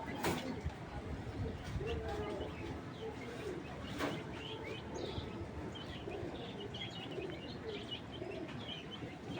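A young, healthy female racing pigeon of the Sobji breed coos softly and repeatedly, with faint chirps from other birds over a steady noisy background while someone talks.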